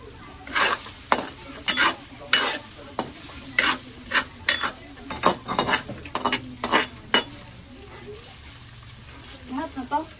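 Pad Thai being stirred and tossed in a frying pan, with a steady run of sharp scraping and clinking utensil strokes against the metal and a soft sizzle underneath, while people talk nearby.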